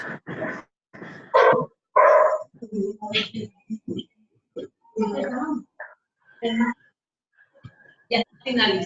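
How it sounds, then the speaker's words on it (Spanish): Dogs bark in short bursts here and there while a person talks over them at close range during an online class, the barks mixing in and out of the speech. "si puede poner su micrófono en muda para no escuchar a los perros"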